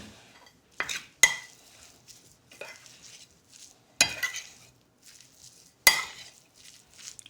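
Fish kebab mixture being stirred and worked by hand after gram flour is sprinkled in, giving a squidgy, wet squelch with several sharp clinking strokes against a bowl, close and fairly loud, with quiet pauses between.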